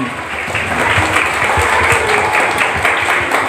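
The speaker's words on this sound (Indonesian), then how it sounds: "luar biasa, tepuk tangan." Audience applause at an anti-bullying and violence awareness session, a steady wash of many hands clapping close and loud, filling the whole stretch with no voice on top.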